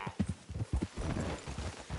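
Horse hooves clip-clopping in the video game Red Dead Redemption 2, a steady rhythmic run of close hoof strikes on the ground, fairly quiet, with no voices.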